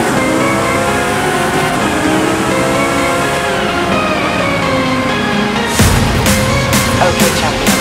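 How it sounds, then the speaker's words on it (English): A Lamborghini in Forza Horizon 5 holds a steady, loud engine drone with rising harmonic sweeps as it accelerates, then bursts of sharp revving and shifting toward the end. "Today we went driving Lamborghini."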